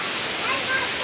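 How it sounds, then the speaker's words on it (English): Tiny waterfalls inside a big butterfly enclosure give a steady, even hiss of falling water, close and continuous throughout. "cage with butterflies, and there are some tiny waterfalls."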